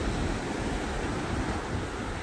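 Ocean waves break continuously on Maengbang beach, a steady, broad, full-sounding surf wash with wind-like hiss and no voices.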